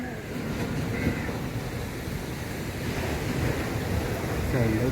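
Sea waves wash along the Azhimala coast near Thiruvananthapuram, a steady broadband roar of surf with wind buffeting the microphone, continuous and fairly loud, and a faint voice may sit underneath.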